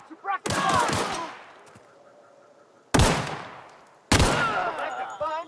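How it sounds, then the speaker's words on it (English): Bursts of suppressing gunfire in The Outer Worlds, three loud, abrupt volleys separated by quieter gaps, with a voice briefly heard between them. "Suppressing fire!"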